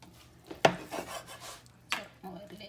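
A knife slices tough, leathery skin off a piece of meat, giving two short scraping rasps close by with soft handling noises between, no voices.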